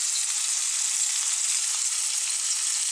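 A beef burger patty fries in a pan with a loud, bright, continuous sizzle that holds evenly from start to finish, close up with no voices.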